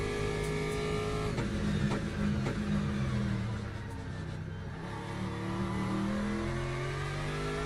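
An Aston Martin race car in the Le Mans Ultimate sim racing game at Sebring, its engine howling loud and steady as it rounds the final turns, with pitch climbing and dipping through gear changes and rev swings.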